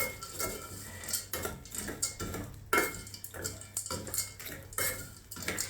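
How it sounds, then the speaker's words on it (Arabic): Sugar being stirred in a pot as it caramelizes, with repeated scraping and clinking of a utensil against the metal in an irregular rhythm, fairly close and steady throughout with no talking. "ببدا اقلب فيه واحده واحده زي ما انتوا شايفين كده، ايدي فيه على طول لغايه لما يتكرمل"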